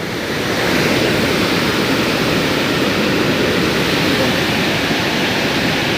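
Powerful water rushes through the gates of Madduvalasa dam in a loud, constant roar close by, dense and unbroken from start to finish.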